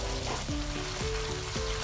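Masala for egg curry roasts in a pan over medium-high flame, giving a continuous dense sizzle with faint scraping strokes from stirring, close and steady.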